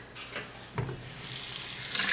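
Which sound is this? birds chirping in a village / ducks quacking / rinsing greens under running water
rinsing greens under running water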